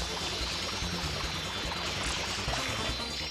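FLUDD water spray in Super Mario Sunshine, a steady, dense gushing stream that runs unbroken and fairly loud, with a low rhythmic pulse of game music or effects underneath, no one talking.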